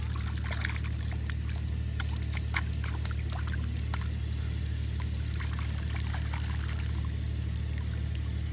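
Water running and pouring steadily as it is channelled along a farm furrow, a constant close flow with a low hum beneath and scattered splashy trickles, no voices.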